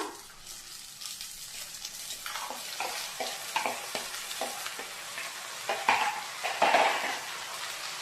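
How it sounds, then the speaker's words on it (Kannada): Soaked sago goes into a pan on low flame and is stirred, with a soft wet scraping and light sizzle, utensil strokes against the pan repeating in an uneven rhythm, close and fairly quiet. "ಇಲ್ಲಿ ನಾನು ಸಾಗು ಏನು ನೆನೆಸಿಟ್ಟಿದೆ ಅದನ್ನು ಹಾಕ್ಕೊಳ್ತೀನಿ"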